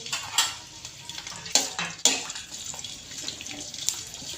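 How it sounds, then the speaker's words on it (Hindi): Green chillies, some split in half, fry lightly in ghee in a karahi for a Peshawari beef karahi, giving a soft crackle with stirring and scraping, and sharper clatters near 1.5 and 2 seconds. "हमें हल्का सा फ्राई करना है ताकि मिर्चों का टेस्ट घी के ऑयल के अंदर से आना शुरू हो जाए"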